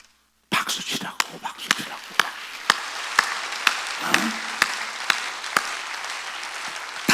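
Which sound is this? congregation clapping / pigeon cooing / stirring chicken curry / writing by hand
congregation clapping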